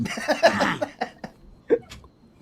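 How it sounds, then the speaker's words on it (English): A few short, rough coughing bursts close to the microphone, the first cluster longer and heavier, followed by a couple of quieter isolated coughs. "Oh, I'm going to cough again."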